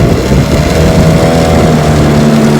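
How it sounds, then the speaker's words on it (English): A 1968 Johnson 9.5 HP outboard motor, destined for a sailboat, runs steadily and loudly at close range with an even droning hum and no talk. "The JohnnyRude, the Florida JohnnyRude motor for David and Patty."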